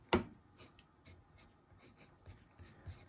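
A Faber-Castell Grip fountain pen in Dapple Grey writes on paper, a faint close scratching in short strokes after one sharp tap at the start, quiet and alone.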